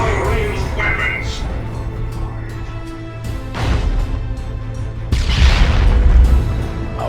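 Explosions and cannon fire from the Dawn of War II strategy game, including an Eldar Fire Prism grav tank, as heavy low booms swell midway and a louder blast lands near the end, under game voice lines and a constant battle din.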